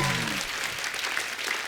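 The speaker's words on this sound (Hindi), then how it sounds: "जोरदार तालियां सोनम और दुलकर के लिए।" Loud audience applause fills a television comedy talk-show studio as a Bollywood actress and a South Indian film star are welcomed, a brief dense burst with a voice briefly audible at the start.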